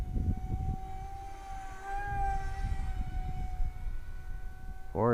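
An Arrows Viper 50mm EDF RC jet, modified with a 4S pusher motor and prop, flies past with a sustained high whine that rises and falls in pitch as it passes, heard from a distance under light wind noise.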